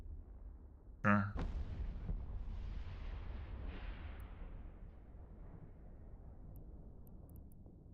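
A single heavy blast from spaceship guns in EVE Online booms out, then a long rumbling roar slowly fades away, fairly faint overall with low muffled background talk.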